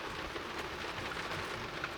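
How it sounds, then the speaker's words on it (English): Rain falls steadily outside, a dense, even, soft patter with no breaks, fairly faint, and no voices over it. "Hopefully the rain won't drain out the sound on this video."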